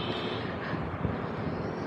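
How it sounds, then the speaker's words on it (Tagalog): A large truck roars past on a highway close to a cyclist, its broad low rumble mixing with heavy wind noise throughout. "Tapos may truck pa."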